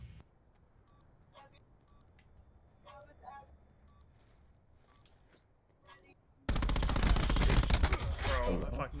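Gunfire in a college Call of Duty esports match: scattered sharp shots early, then a sudden sustained loud burst of rapid automatic fire over the last few seconds.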